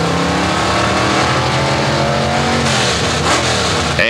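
A Plymouth Duster drag car's engine roars loud and steady at the starting line of a 1984 ET Superstakes drag race, rumbling continuously with shifting revs.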